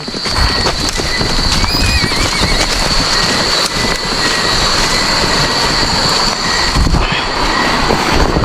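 A horse gives a loud whinny amid steady clip-clop and dense background rumble, close by, with no one talking.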